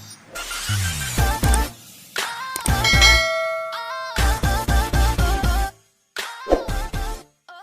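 A ringing bell sound effect for a notification plays in several bright, chiming bursts with ringing tones and short gaps, loud and close, with no talk.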